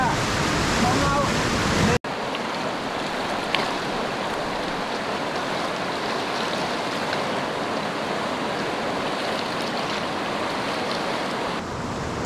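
Steady, roaring rush of river whitewater churning through a large wave train of rapids on the Allanwater River in Wabakimi Provincial Park, continuous and close, with a brief break near the start.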